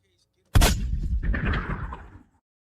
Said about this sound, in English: Those fucking gunshots, they sound fucking funky